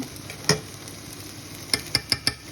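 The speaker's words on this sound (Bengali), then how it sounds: "এগুলো মিক্স করে সব একসাথে মিক্স করে নিব।" Yogurt and a spice mix frying in a pan for chicken pulao give a soft steady sizzle, broken by one spoon tap and then a quick run of four sharp clinks against the pan.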